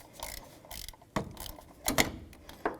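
Socket wrench ratchet working a 14 mm bolt loose on a 1998-2002 Honda Accord 3.0L engine, a few short bursts of clicking in an uneven rhythm, fairly close and quiet.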